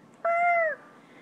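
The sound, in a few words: child imitating a cat's meow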